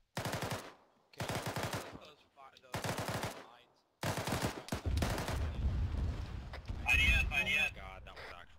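Mortar fire and gunfire in a military video game defending the Alamo: heavy rumbling blasts and crackling shots build through the second half, following several bursts of talk at the start.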